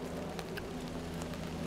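Heavy rain pours steadily on a walk through North End, Halifax, a dense continuous hiss of drops on pavement with a low hum underneath and no voices.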